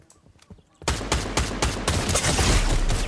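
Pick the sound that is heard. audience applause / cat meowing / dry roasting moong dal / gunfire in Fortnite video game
gunfire in Fortnite video game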